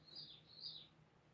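Small birds chirp outside in the rain, a few faint high tweets in a quick, thin run against a soft steady background.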